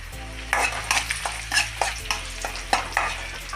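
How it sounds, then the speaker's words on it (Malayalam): Dried red chillies frying in a pan for chicken kondattam, with rhythmic stirring scrapes about twice a second over a steady low sizzle and background hum. "അതുപോലെ കുറച്ച് വറ്റൽമുളക് അത് ഒന്ന് ഫ്രൈ ആക്കണം."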